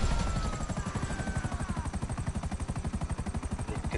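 A helicopter in GTA Online flies close by, its rotor thudding in a rapid steady pulse that grows more distinct, loud and continuous for the whole stretch.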